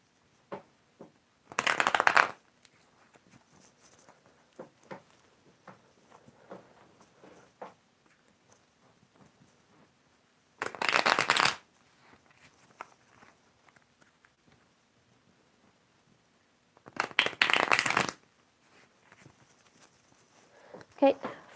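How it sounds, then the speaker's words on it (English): Tarot cards are shuffled in three separate bursts of quick riffling patter, each about a second long, close and crisp, with quiet gaps and light handling noises between them. "Just gonna shuffle a few times."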